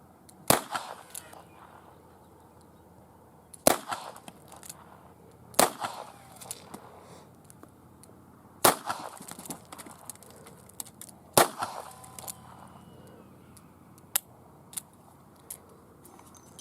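A revolver fires reverse wadcutter rounds in about six sharp, loud reports spaced a few seconds apart, each followed by brief rattling and handling noise.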